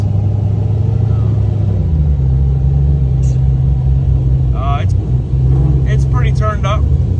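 Drag racing car idling on the 2-step after warm-up, a steady deep engine rumble with loud close low-end throb throughout, broken briefly by a few sharp higher noises near the end.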